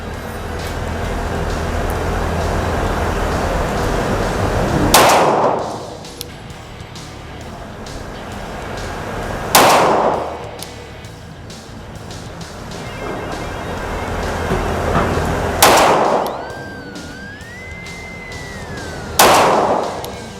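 Four loud, sharp shots from a Sarsilmaz SAR 9 Platinum 9mm pistol, fired one at a time several seconds apart over steady background noise.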